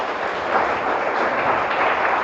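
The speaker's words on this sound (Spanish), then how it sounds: "Denle un fuerte aplauso al Señor." A church congregation applauds the Lord during a Spanish-language service, a steady, even wash of many hands clapping that fills the space without pause.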